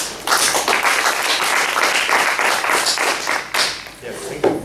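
Dense applause from a symposium audience at Aarhus University fills the hall, steady and loud throughout, swelling briefly near the end before tapering.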